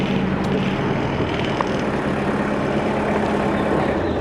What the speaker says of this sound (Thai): เราก็ลองลงมาดูเครื่องยนต์ก่อน เครื่องยนต์เป็นสี่สูบ